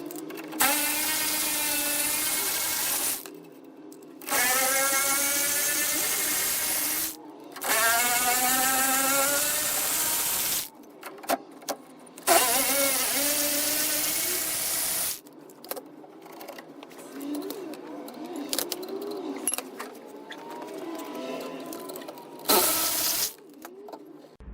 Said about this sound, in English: Linished up the bracket then to give me some nice bright metal to weld.